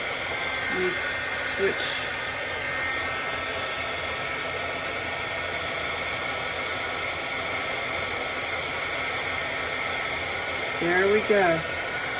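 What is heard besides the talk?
heat embossing heating tool blowing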